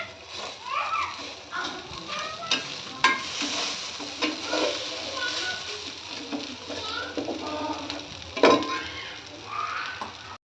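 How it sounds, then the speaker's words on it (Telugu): Sarvapindi, a Telangana-style rice flatbread, frying in a pan, a moderate sizzle with scraping and tapping as it is flipped, a few louder utensil knocks, and faint background sounds. "ఇప్పుడు మనం బ్యాక్ సైడ్ ఫ్రై చేసుకోవడానికి తిప్పేసుకోవాలి."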